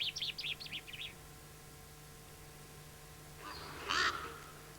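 A common chaffinch of the La Palma race calls in a pine forest, a quick series of short bright chirps followed after a pause by a louder burst of calls, set against a steady low hum.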